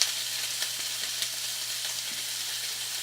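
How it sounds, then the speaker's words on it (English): Onions sizzle steadily in a hot pan while being stirred with a wooden spoon, a continuous close frying hiss broken by a few soft scraping strokes, with no talking. "Wood spoon, stir my onions."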